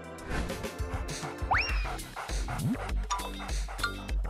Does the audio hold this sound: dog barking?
yes